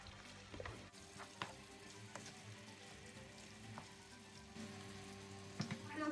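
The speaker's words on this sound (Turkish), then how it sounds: "Karıştıralım güzel." Curry chicken frying in a pan as it is stirred, a steady close sizzle with occasional soft scrapes and clicks of the utensil, no talking.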